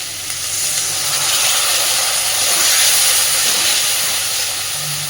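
Steady hissing sizzle of masala frying in a pan with a splash of water for a swamp eel curry, close and even throughout with no talk.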